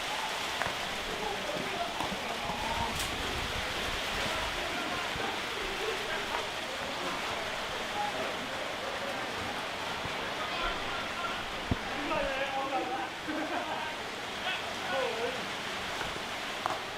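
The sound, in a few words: heavy rain falling on a sports pitch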